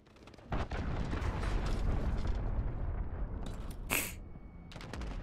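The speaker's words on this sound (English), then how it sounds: "Cruise missile" A cruise missile strikes in a Modern Warfare multiplayer match, bringing a sudden loud blast with rolling explosive rumble and crackling debris, followed by a sharp burst near the four-second mark and more gunfire.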